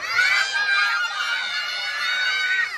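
Children at a first birthday party shouting loudly together, a sustained high crowd of young voices yelling and squealing close to the microphone for the whole stretch.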